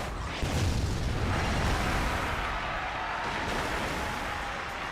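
A car explosion in the Burnout Revenge racing game, a heavy booming burst followed by rumbling crash debris and scraping, moderately loud and sustained, with no voices.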